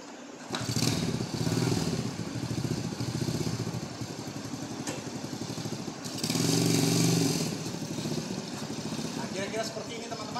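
A small modified Honda C70 motorcycle engine idles with a rapid, rattling putter, swelling briefly louder with a couple of revs, while someone talks over it.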